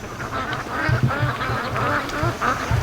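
Free-range ducks quack in short repeated bursts on a windy lake, several nasal calls close by over steady wind noise.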